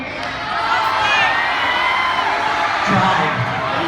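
Middle school crowd cheering and whooping at a retirement presentation, a loud continuous roar of young voices with shouts throughout.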